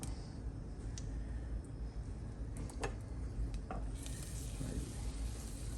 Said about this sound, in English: So you got your butter melting down, by half a stick of butter.